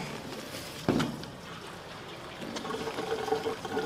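Gasoline pours into the fuel tank of a 1979 Ford F250, a close, steady liquid gurgle and trickle following a sudden thump as the flow begins.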